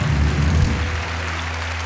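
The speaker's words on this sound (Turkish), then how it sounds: "Türkiye'deki bütün kameramanlara gitsin bu alkış." Studio audience applause on a Turkish television talk show, a brief burst of clapping that fades out quickly.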